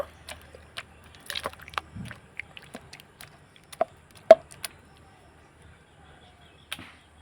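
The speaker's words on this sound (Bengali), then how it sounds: "এবার টমেটোগুলোকে থেতো করে নেব" Tomatoes squashed by hand-held mashing, heard as a few scattered close taps and wet squelches with quiet pauses between them.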